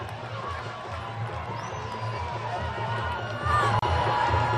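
Stadium crowd at a Ugandan Premier League football match between Lugazi FC and S. Bright Stars FC, a steady broad roar of cheering that swells louder near the end, with a commentator talking over it.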